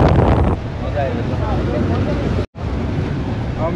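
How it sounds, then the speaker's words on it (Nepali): Strong wind at Manly Beach, Sydney, buffets the microphone in a continuous loud roar, with surf in the background and a voice speaking faintly through it; there is one brief dropout near the end. "यो चाहिँ उडाउँदो रहेछ हावाले मान्छेलाई"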